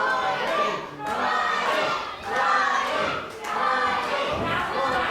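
A wrestling crowd in Corby roars and shouts in surging waves, loud chanting swelling and dipping roughly every second, with thuds from the ring mixed in.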